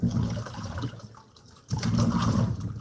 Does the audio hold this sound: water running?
yes